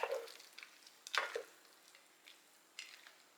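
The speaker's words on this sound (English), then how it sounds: "Stir it up" Rotini pasta and ground beef are stirred together in a single pan, giving soft scraping spoon strokes and faint sizzling in short, quiet bursts.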